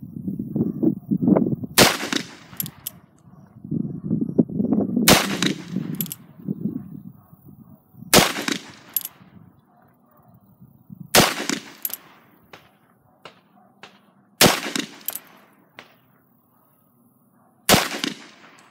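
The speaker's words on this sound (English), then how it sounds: "here's a little clip of me trying to shoot two-handed" An EAA Bounty Hunter single-action .45 revolver fires six sharp shots at irregular intervals of a few seconds, shot two-handed. Each report is loud and close, with handling noises and low rumbles between shots.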